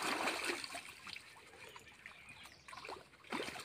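Water is poured and splashed over a bicycle outdoors as it gets washed, a faint, uneven trickling and spattering with a few brief louder splashes.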